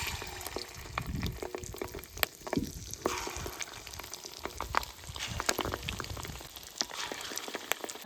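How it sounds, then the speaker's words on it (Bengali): Steady crackling sizzle of fish roe frying in hot oil, dense popping spatters continuing throughout at close range. "এবার কড়াইতে এই ডিমগুলো দিয়ে দেবো"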